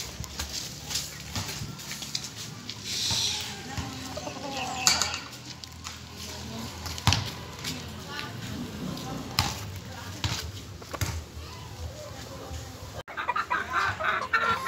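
Backyard hens in a small poultry pen cluck intermittently amid scratching and rustling, with a voice talking over them and a louder burst of activity near the end.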